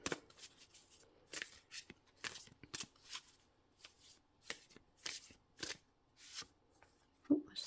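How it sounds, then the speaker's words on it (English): Tarot cards are shuffled and drawn by hand in a series of soft, papery riffles and slides, close and fairly quiet, with brief gaps between bursts and a faint voice now and then. "We'll draw some more cards for you and see what else we get."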